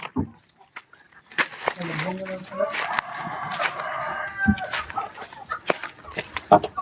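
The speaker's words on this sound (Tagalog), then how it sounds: "ng kanyang alaga na mga manok" Chickens kept as backyard pets cluck in short, scattered bursts nearby, mixed with a few louder squawks and background chatter of people talking.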